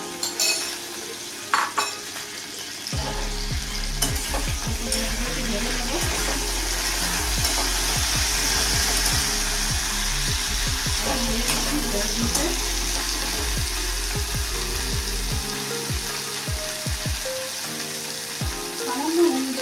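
Okra fries in hot oil in a home kitchen, starting with a few clinks, then a continuous loud sizzle with stirring and utensil scrapes that drops away near the end.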